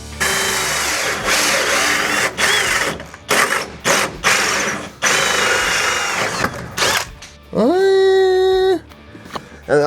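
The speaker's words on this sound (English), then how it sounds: "We will start drilling holes through our floor," A power drill bores holes through a camper floor in several loud, close bursts separated by brief pauses, ending with a high whine that rises as the motor spins up.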